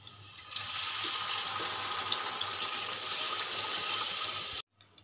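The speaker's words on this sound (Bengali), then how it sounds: "এবারে দিয়ে দেবো পরিমাণ মতন জল।" Water pours steadily into a pan of spiced rohu fish head curry, a continuous, close gushing stream that holds for several seconds and then stops abruptly, with no one talking.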